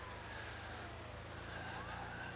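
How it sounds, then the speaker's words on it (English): A police siren wails faintly in a racing video game, its rising and falling tone thin and distant over a steady, dense roar of engine and road noise. "in the editing process, I'm gonna lower the sound of this siren."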